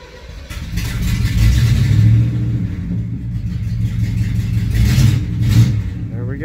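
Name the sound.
Oldsmobile car engine revving as it drives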